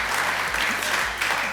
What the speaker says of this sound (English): we've got to give that a round of applause